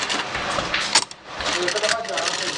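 A sewing machine stitches a folded shirt seam, its motor whirring in a steady buzz with a brief pause near the middle, then running again under a voice.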